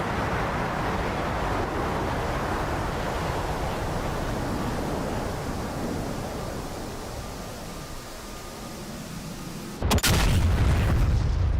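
Steady aircraft roar fills a DCS flight simulator cockpit until a single sharp bomb blast bursts near the end and then rumbles on.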